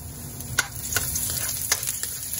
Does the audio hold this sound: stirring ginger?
yes